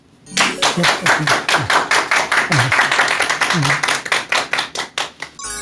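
An audience welcomes a lecturer at a talk with a big round of applause: a burst of close, rhythmic clapping starts abruptly and runs loud and even, then thins toward the end, with a voice briefly speaking over it.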